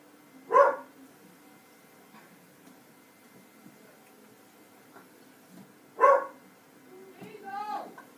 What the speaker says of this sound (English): that dog next door is barking